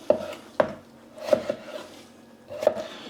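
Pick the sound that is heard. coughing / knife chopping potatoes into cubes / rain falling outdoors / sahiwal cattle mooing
knife chopping potatoes into cubes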